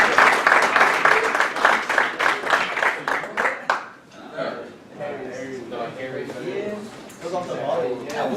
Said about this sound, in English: Round of applause for our weekly